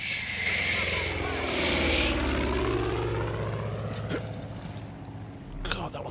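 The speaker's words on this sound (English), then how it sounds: "that was quite a scary sight, that being dive-bombed by a plane" A propeller plane dive-bombs in the video game Far Cry 5, its engine roaring loudly overhead before fading away, with sharp game effects near the end.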